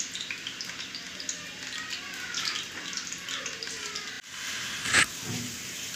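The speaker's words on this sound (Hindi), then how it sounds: "प्याज को ब्राउन होने तक हम पकाएंगे।" Onions sizzle steadily as they fry in a pan until brown for chicken pulao, a continuous crackling hiss with a brief clank of a utensil near the end.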